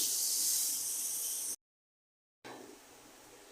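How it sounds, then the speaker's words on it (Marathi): Chicken kheema sautéing in a pan gives off a loud, broad sizzling hiss that breaks off into a second of silence, then returns a little quieter and rougher. "आता हे आपण परतून घेऊया."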